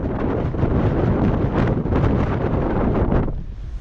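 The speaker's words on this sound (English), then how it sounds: "the wind is really blowing" Strong, gusty wind buffets the microphone in an open field, a loud continuous roar with surging gusts that drops off slightly near the end.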